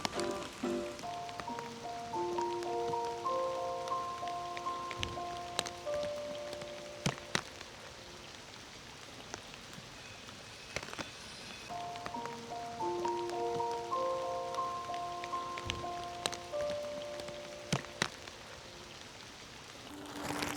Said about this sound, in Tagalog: tsaka umuulan kasi